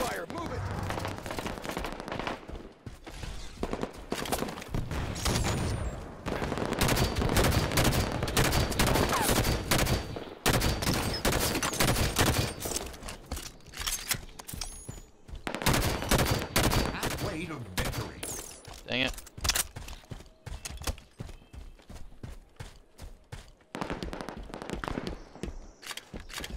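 Halo 5 sniper and gunfire on Xbox One, with dense, repeated shots and bursts over a long stretch, mixed with in-game footsteps and occasional voices.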